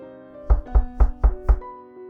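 Five soft, evenly spaced knocks on a door, close and distinct against a quiet background with a faint sustained musical tone behind them.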